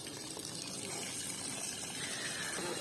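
Water pours in a faint, steady gush with no break, heard alone without any talking.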